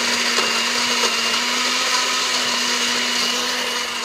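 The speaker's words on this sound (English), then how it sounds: "I let it blend for a while" A blender whirs loudly and steadily as it mixes a Butterfinger Shakeology shake, a constant close motor whine with a strong hum and no voices.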